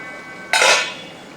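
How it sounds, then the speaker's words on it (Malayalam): A single short metallic clank of a utensil against a pot as fish curry (pulin curry) is stirred, quick and close, fading into quiet room tone. "ഒന്ന് ഇളക്കി കൊടുക്കും"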